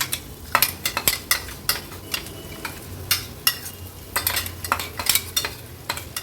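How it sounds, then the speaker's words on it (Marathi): Crushed toor beans (pigeon peas) stirred into a pan with a spoon, giving a run of irregular scraping strokes and light clinks against the metal, close up with a faint sizzle beneath. "व्यवस्थित मिक्स करून घ्यायचं आहे"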